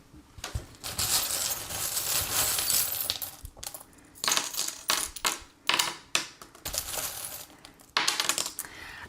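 Small metal charms scatter and clatter onto a surface for a fortune-telling reading, in several bursts of close, bright jingling and tapping with short pauses between them.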